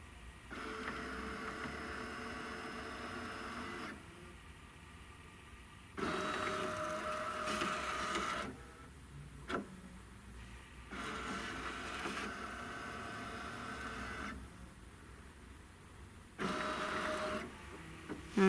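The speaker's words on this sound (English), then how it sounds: "now I'm going to scan in the hoop" An embroidery machine scans its hoop in repeated bursts of mechanical whirring and motor buzz, each lasting a few seconds, separated by quieter pauses and a few sharp clicks, close by with no talk.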